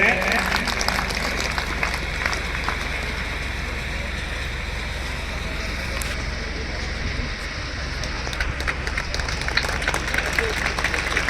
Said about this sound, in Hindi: तालियों में कंजूसी नहीं करें।